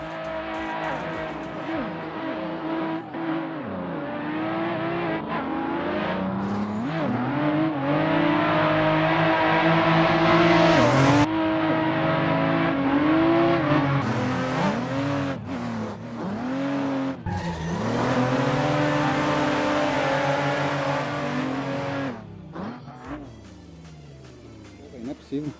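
Car engines rev and roar continuously with tires squealing during a drift battle in a racing game, loud and sustained with pitch swings, while people talk over it.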